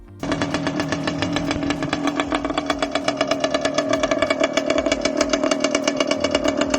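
Yamaha Raptor 700 quad fitted with a two-stroke Kawasaki engine starts abruptly and runs steadily, a loud buzzy rapid-firing exhaust close by with a pulsing rhythm that sharpens slightly toward the end, without voices.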